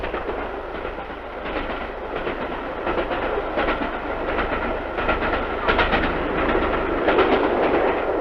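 The Elizabethan Express steam-hauled passenger train runs steadily along the rails, a continuous broad rumble with rhythmic clickety-clack of the coaches over rail joints, moderately loud and with no voices.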